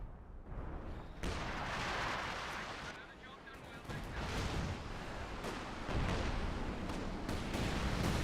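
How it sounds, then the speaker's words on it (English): Incendiary artillery barrage in Company of Heroes 2, a series of heavy booming impacts and roaring bursts, growing louder toward the end amid constant battle noise, with speech in the background. "Oh, that's incendiary barrage."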